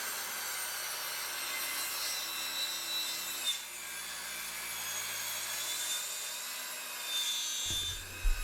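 Hand sawing through a wooden bench end to trim it square, a continuous rasping back-and-forth rhythm close by, steady throughout with a short thump near the end.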